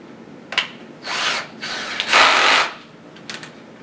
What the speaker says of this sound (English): place one of the mandrels into your power drill